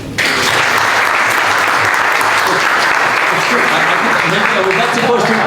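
An audience applauds after an ambassador's farewell speech, breaking into loud, full clapping that starts abruptly and holds steady and dense, with some voices mixed in beneath.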